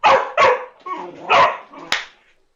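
A young puppy barks in four or five sharp yips with short gaps between them, close and loud, ending in a softer whimpering trail.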